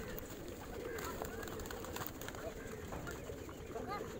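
Pigeons coo softly at a pigeon fair in a Punjab village, amid a faint, busy outdoor background murmur, the calls quiet and blending into the ambient noise.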